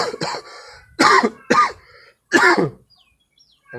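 Several harsh coughs in close succession, loud and near, with a short pause between bursts and quiet afterward.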